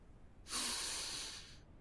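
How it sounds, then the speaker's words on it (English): A video game character takes a single breath while aiming zoomed in, a short breathy hiss lasting about a second, close and soft, with nothing else audible. "You might have noticed a breathing sound as I was showing that zooming in"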